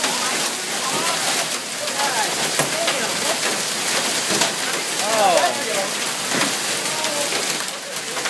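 Hail pounding down during a severe storm with tornado warnings in St. Louis, Missouri, a loud continuous roar of impacts on hard surfaces with a person briefly exclaiming over it.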